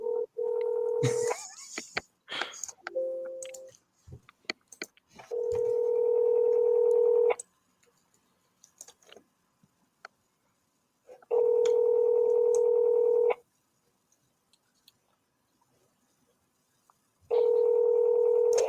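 Telephone ringback tone pulses in long steady beeps of about two seconds, separated by quiet gaps, mixed with earlier dialing tones and faint clicks, close and clear, with no speech.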